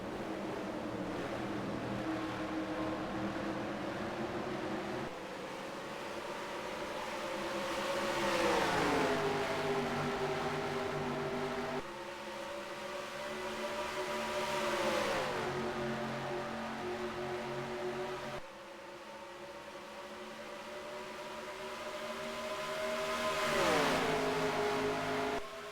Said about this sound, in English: That South African car is rapid down that straight.